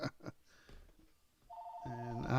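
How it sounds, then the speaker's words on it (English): A telephone rings in a quiet room near the end, a steady repeating tone coming in after some soft speech and background noise. "luckily the phone's ringing"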